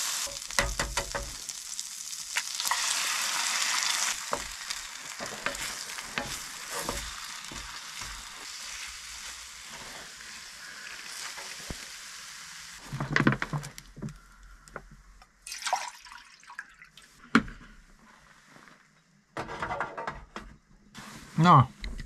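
Bacon and eggs sizzle in a pan over an outdoor camp fire on a late-autumn tent trip, a dense crackling fry early on giving way to scattered clatters and scraping, with a voice talking at times.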